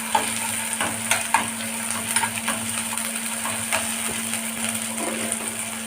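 Curry leaves fry with ginger garlic paste in a pan, a steady close sizzle with sharp crackles and pops scattered through, over a faint constant hum.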